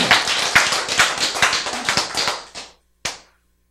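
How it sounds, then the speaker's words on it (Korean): An audience at a lecture claps together in a dense, continuous burst for about two and a half seconds, then a single sharp clap follows after a short silence. "박수 한 번."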